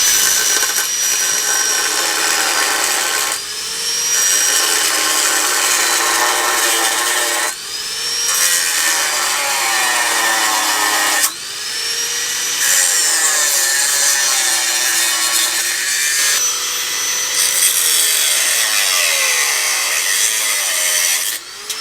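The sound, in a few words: angle grinder with cutting disc cutting metal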